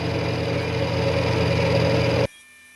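A milling machine cutting a narrow rib into metal, a loud steady grinding hum with a constant tonal whine that runs evenly, then stops abruptly leaving quiet background.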